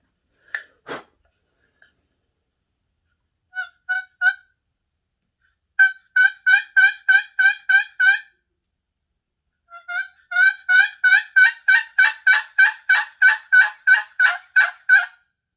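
A chalked wooden turkey box call scrapes out quick, loud runs of raspy yelps, first in short bursts, then two long rhythmic series of about a dozen notes each.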